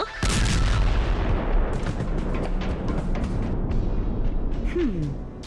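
A loud blast opens the clip, followed by rumbling booms and debris-like crackle, with a brief voice near the end.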